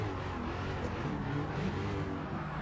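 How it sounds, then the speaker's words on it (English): Drift cars racing in a drift championship, their engines roaring steadily under throttle control, dense and continuous with no clear breaks, one car a Mopar Roadrunner. "listen to that throttle control, both of these cars"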